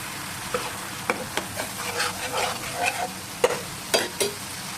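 Turmeric and chili powder are sautéed with other spices in a pan for a mustard rui fish curry. A spatula scrapes and stirs in uneven strokes over a soft, steady sizzle, close up, with no talking.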